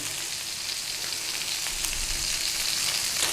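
Tomatoes sizzle and fry in a pan, a steady hiss with faint crackles that holds at even loudness throughout, with no talking.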